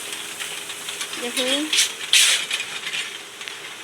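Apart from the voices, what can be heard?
puffed rice roasting machine running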